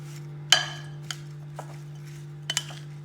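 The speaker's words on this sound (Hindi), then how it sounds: "अब ये सारी चीजों को हम अच्छे तरीके से एक दफा मिक्स कर लेंगे।" Potato pakora ingredients and spices being mixed in a bowl: a few sharp clinks of a metal spoon against the bowl, spaced irregularly, close and moderately quiet over a steady low hum.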